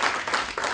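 Brief burst of audience applause at a cultural evening in a hall, a dense wash of many hands clapping at once, moderately loud and alone with no voices over it.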